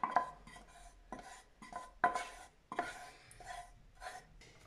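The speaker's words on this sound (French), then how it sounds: "J'ai gratté tout mon choco" A spatula scrapes melted chocolate from a bowl while making chocolate mousse, giving a series of short rasping scrapes and light clinks against the bowl, close up and fairly quiet.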